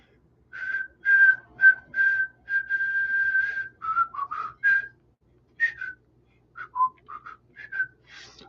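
Someone whistles a tune, clear and close, with long held notes and quick phrases broken by brief breaths.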